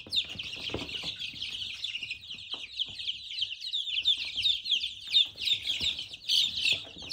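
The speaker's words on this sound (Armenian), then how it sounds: "Այսա, աքլորա։" A rooster crows and clucks repeatedly at fairly close range, with other bird chirps mixed in over a quiet background.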